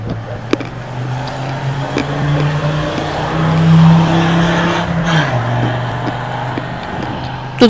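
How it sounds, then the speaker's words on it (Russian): Sports cars and motorbikes race along a road outside at night in Yalta, seen from a third-floor balcony. A loud engine drones and swells as it passes, then fades, with scattered faint clicks around it. "Тут гоняют байки, спортивные машины"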